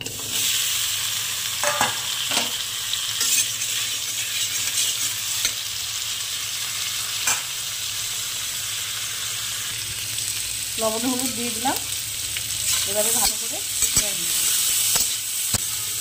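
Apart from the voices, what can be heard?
squash and drumstick vegetables frying in oil in a wok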